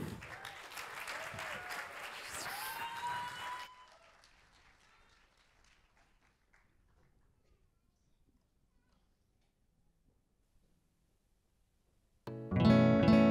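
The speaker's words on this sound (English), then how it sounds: "please give a big round of applause to Akanch and Karen" Lively applause and cheering from an audience at an MBA talent show in Paris lasts a few seconds, then fades to near silence before a loud burst of sound returns at the end.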